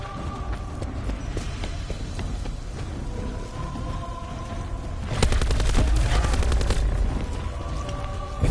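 Video game gunfire breaking out over a busy background of ambient effects and what sound like hoofbeats, with a louder burst of shots late in the clip.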